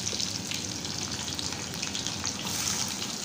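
Green chillies, garlic and onion with cumin sautéing in a pan over a medium flame, a soft continuous frying crackle and hiss, fairly quiet and steady, with no talk.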